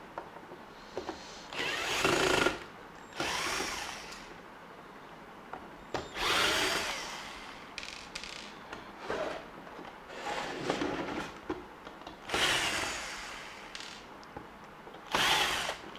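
A power driver loosening the nuts on the casing of a 2000W solar inverter, several short loud whirring bursts separated by pauses, close and without talk.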